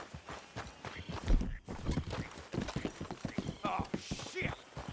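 Horses walk in Red Dead Redemption 2, their hooves clip-clopping in a steady rhythm close by, with a neigh partway through and voices talking over the hoofbeats.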